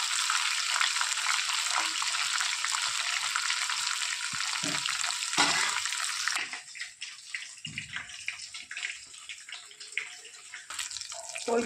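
Two bay leaves, one dried red chilli and whole cumin hit hot oil left from frying prawns, giving a loud, dense close-up hiss for several seconds that eases into a lighter, crackling sizzle.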